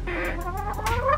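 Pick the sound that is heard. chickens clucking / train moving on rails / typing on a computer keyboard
chickens clucking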